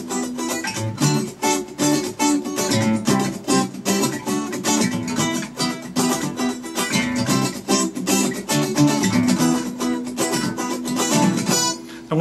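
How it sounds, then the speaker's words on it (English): A guitar strumming pattern for a song played at full speed with percussive muted chops between chord strokes, a busy, loud and close rhythm with no voice. "Now let's take a look at how this pattern will sound with the muting effects."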